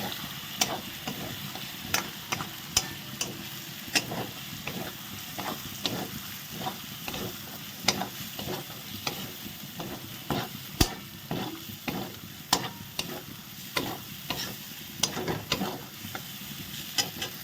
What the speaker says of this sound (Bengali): এবার এই তিনটে দেওয়ার পরে একটু নেড়ে ছেড়ে এটাকে সুন্দর করে কষিয়ে নিতে হবে